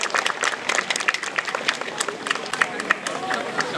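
Festival audience applauding on stage, dense clapping with crowd noise spread across the whole stretch, fairly loud and steady.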